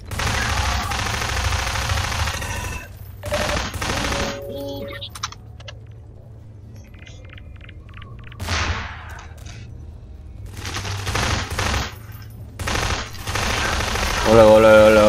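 Player's gun firing in the video game Prospekt, rapid bursts of automatic shots in several separate volleys, loud and close, with pauses of quieter ambience between them.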